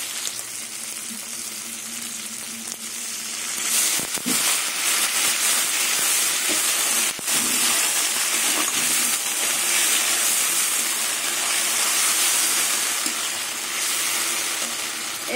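A little water goes into a pan of frying garlic paste and tomato, and a loud, continuous sizzle and steamy hiss follows, swelling after a few seconds and carrying on strongly with faint stirring knocks.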